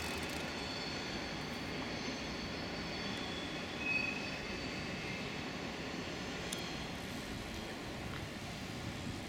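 Low continuous rumble of trains rolling through a rail yard in Basel, Switzerland, with a faint metallic wheel squeal drifting above the steady noise.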